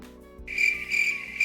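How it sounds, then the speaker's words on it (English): Crickets chirping as a sound effect, a steady high trill that starts after a brief quiet moment and continues to the end, loud and close over a faint low hum. "the sound of crickets would have been more apt anyways"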